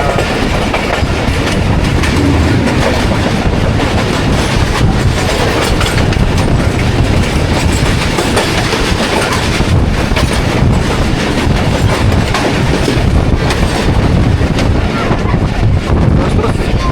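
Shah Hussain Express passenger train running fast on rails past Rahim Yar Khan station, a loud continuous rumble with rhythmic clickety-clack and wind buffeting, heard close from on board.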